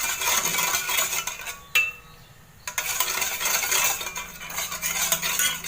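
A spoon stirs sugar into a chilled ayurvedic juice, giving steady close scraping and clinking against the glass or vessel, with a short quiet pause near the middle before the stirring resumes.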